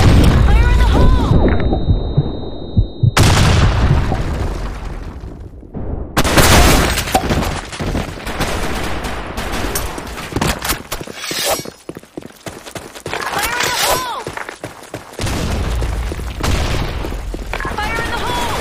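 Grenade blasts and bursts of gunfire erupt in a video game, several sharp, loud explosive booms and rattling shots scattered across the stretch, interleaved with quieter gaps and a shouting player's voice.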